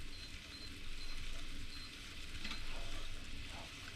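Chilli beef sauce bubbles gently in a pan at a simmer, a soft continuous sizzling and popping hiss that swells slightly, quiet and with no voices.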